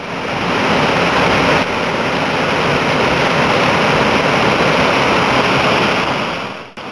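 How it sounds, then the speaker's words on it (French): The Bolo waterfall in Lobéké National Park, Cameroon, roars as a loud, dense, unbroken rush of falling water close by, steady for several seconds before cutting off abruptly, with no voices. "Les chutes de Bolo se trouvent au sud-ouest du parc national de Lobeke"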